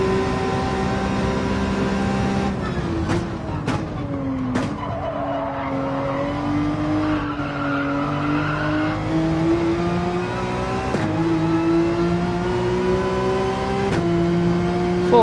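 A race car in Gran Turismo 7 at Road Atlanta holds full throttle with a loud, continuous engine note that rises and dips through gear changes, with brief tire squeal along the way.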